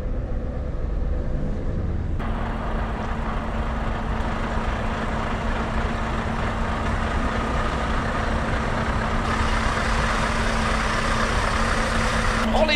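A heavy lorry engine rumbles close by, idling with a steady low drone, then grows louder and rougher as the vehicle, hauling a wide-load combine harvester, pulls away.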